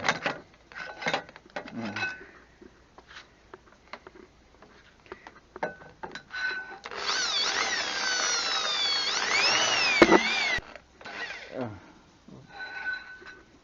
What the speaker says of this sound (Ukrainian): так будемо у цьому свердлити тут і тут